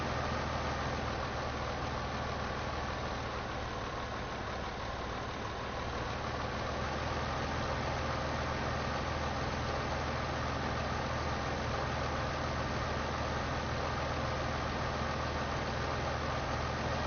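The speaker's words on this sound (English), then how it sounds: "And this tractor only does about 19 miles an hour." A tractor engine idling in a farming video game on PS4, a constant low, dense rumble that holds steady and unbroken for the whole stretch, with no voice over it.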